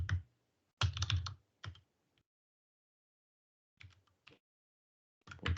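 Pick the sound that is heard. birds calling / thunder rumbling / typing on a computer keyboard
typing on a computer keyboard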